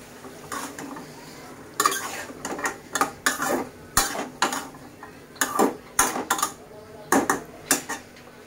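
Yardlong beans stir-fried in a pan, with repeated loud spatula scrapes and metallic clatter in short irregular bursts over a faint sizzle.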